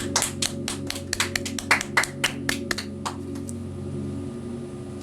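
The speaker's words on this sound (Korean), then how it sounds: "오늘도 저와 여러분들에게 은혜 주신 주님께 우리 감사의 박수 드리겠습니다." A church congregation at a Korean worship service applauds in scattered, uneven claps that thin out and fade after a few seconds over a low hum.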